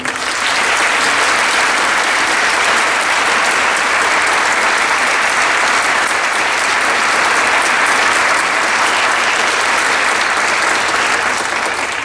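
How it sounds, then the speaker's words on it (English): An audience at a high school gathering gives sustained, dense applause for a choir, loud and steady throughout with a roomful of hands clapping together. "Please join me in applauding."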